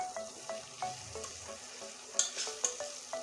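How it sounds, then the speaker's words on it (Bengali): Fried potatoes being sautéed in spiced oil in a pan, a soft low sizzle under repeated scraping strokes of a spatula and a few sharp metallic clinks near the end. "এখন আমি এই ভেজে রাখা আলু দিয়ে দিচ্ছি আলুটা আমি আরও সুন্দর করে কষিয়ে নেব"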